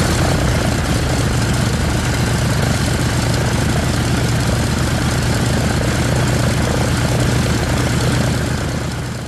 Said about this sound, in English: Dan Grider brought the Herpa DC-3 to Lakeland this year